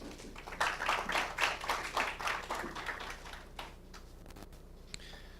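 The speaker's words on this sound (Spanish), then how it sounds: "Les pido un aplauso para David y vamos a comenzar." A workshop audience on renewable energy applauds briefly, individual claps distinct and fairly close, swelling then thinning out into a few scattered final claps.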